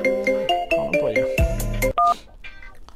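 A phone's melodic ringtone plays close by, a bright electronic tune of stepped notes that halts abruptly, leaving a faint trailing tone.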